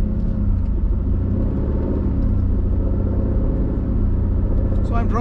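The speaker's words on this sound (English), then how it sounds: "the exhaust, which it has a nice healthy growl in regular Sport mode" An Aston Martin Vantage Roadster's exhaust growls in Sport mode as it drives sedately, a close, constant, deep rumble throughout.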